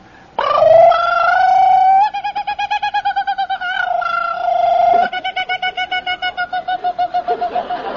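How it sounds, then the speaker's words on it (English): A loud kookaburra-like call: a rising sustained hoot, then bursts of rapid, rhythmic pulsing cackles that repeat several times, close and clear. "he sings out like a kookaburra"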